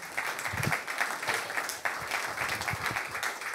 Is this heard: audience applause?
yes